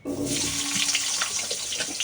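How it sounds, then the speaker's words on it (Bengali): Tap water runs steadily and fairly loudly in a home kitchen as rice is washed, with a continuous splashing rush and no talking. "আলুটা ভাজা বসিয়ে আমি আগে চালটা ধুয়ে নিয়ে আসবো"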